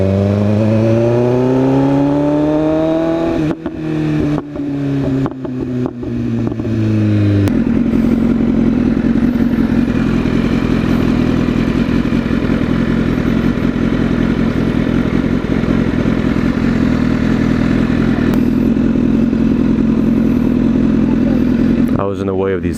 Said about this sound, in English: I can hear the bike a lot louder on my left side than my right side